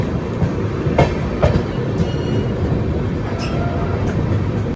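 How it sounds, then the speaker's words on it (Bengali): The Howrah–Dehradun Kumbha Express pulls out of Asansol Junction, a loud, close rolling rumble from inside the train with several sharp clacks and knocks as wheels cross rail joints. "আমাদের ট্রেন ছেড়ে দিল হচ্ছে আসানসোল জংশন থেকে।"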